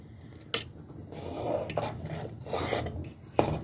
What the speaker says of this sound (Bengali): আমি কিন্তু অনাবরত নেড়ে যাচ্ছি আর কতটা ঘন হয়ে গেছে বুঝতেই পারছেন